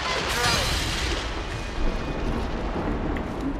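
Dense gunfire and booming blasts in the battle-royale shooter Apex Legends, a loud continuous barrage of shots and rumbling impacts filling the whole clip, with a voice talking over the fighting.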